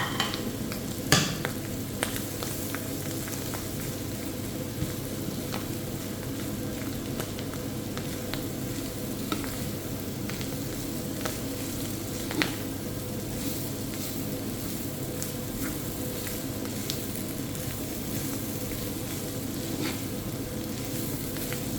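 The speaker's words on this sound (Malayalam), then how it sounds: "ഇനി നമുക്കിതിനെടുത്ത് വെച്ച തേങ്ങ ഇട്ട് കൊടുക്കാം." Grated coconut and clam meat sizzle steadily in a hot pan for a thoroughen-style stir-fry, with continuous frying hiss and occasional scraping stir strokes, close and moderately quiet, no talking.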